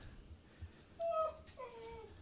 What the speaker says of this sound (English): Yeah, I hear you, dog.